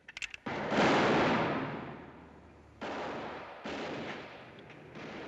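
Gunshots in an old Western film: a short burst of sharp cracks, then a big booming shot that fades slowly, followed by two more loud blasts trailing off, loud and close with no talk.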